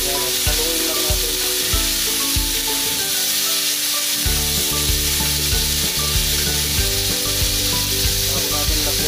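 Chicken arroz caldo stirred in a frying pan: a steady sizzle of frying with repeated rhythmic scraping strokes from the spoon, close and fairly loud, with no talking.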